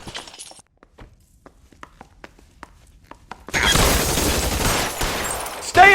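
Shootout gunfire in the video game LA Noire: sparse, sharp single shots crack out over near-silence, then a sudden loud, dense barrage of fire takes over and keeps going to the end.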